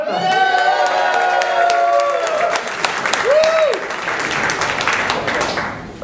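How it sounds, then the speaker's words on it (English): Audience applause and cheering at a comic strip variety show, honoring its sponsors: steady dense clapping with whoops and shouts from a live crowd, holding for several seconds before thinning near the end. "let me give a big round of applause for our sponsors"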